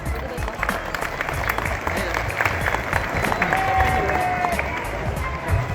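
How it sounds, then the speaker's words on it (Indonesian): Students at a school orientation assembly clap together in a large crowd, a dense, steady patter of applause that fills the space for several seconds, with some voices and chatter mixed in. "Tepuk tangan dulu dong."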